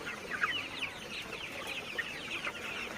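Sonali hybrid chickens, mostly roosters, clucking continuously on a farm, with overlapping calls from many birds at moderate distance.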